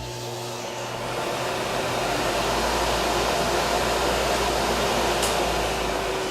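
Workshop dust collection system with automatic blast gates powering up, a steady broadband roar of blower and rushing air that starts quieter and rises to full level within the first second, then holds constant and alone.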